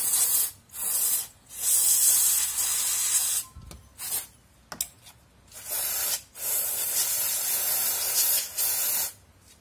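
Cleaner is sprayed onto a motorcycle disc brake in repeated long, loud, close hissing bursts separated by brief pauses, with no talking.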